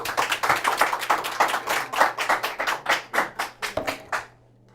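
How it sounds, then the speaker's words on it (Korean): An audience at a humanities and branding talk gives a round of applause, with claps gradually falling into a loose shared rhythm before stopping abruptly into quiet. "다시 한번 큰 박수 부탁드릴게요."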